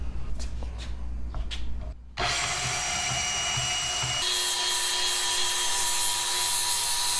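A power tool cuts a scrap steel plate: a few faint taps and scrapes, then a sudden loud, sustained high-pitched grinding whine that shifts pitch partway through and runs on steadily.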